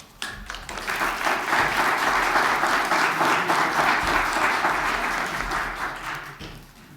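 A hall audience claps at a 2021 national student inventors' award gala, dense steady applause rising quickly and holding for several seconds before tapering off near the end.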